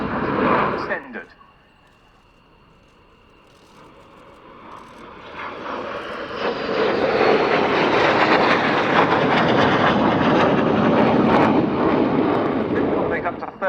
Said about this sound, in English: the Dassault Super Étendard